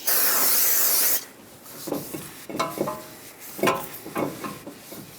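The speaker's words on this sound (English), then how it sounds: "Take a clean rag and some brake parts cleaner and just gently wipe this off." Brake parts cleaner sprays onto brake parts of a 2018-2023 Subaru Crosstrek in one loud, close hiss lasting about a second, followed by quiet rubbing and wiping sounds.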